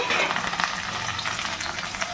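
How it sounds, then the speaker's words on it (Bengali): Potatoes frying in a pan of hot oil with turmeric and salt, a dense, close sizzle with occasional stirring scrapes, continuous and without voices. "প্রথমে আলুগুলো আমি ভালো করে ভেজে নেব"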